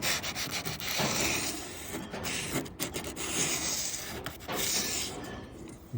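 Plumber's sanding tape rubs back and forth along the edges of a panel, giving a continuous gritty scraping in several long strokes. It is close, fairly loud and has no talking over it.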